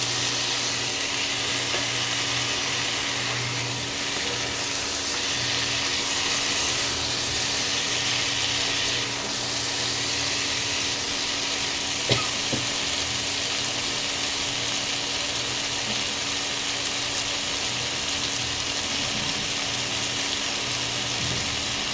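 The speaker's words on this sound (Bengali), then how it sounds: "মশলাটার সঙ্গে আলু আর কাঁঠালের দানাটা মিশিয়ে নেব" Potatoes and jackfruit seeds being stirred into spices in a pan, a steady low sizzle and frying hiss with soft scraping throughout, one sharp clink near the middle.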